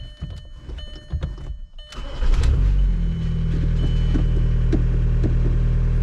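A TDI diesel car engine cranks and starts after a few clunks and clicks, then settles into a steady, close idle hum.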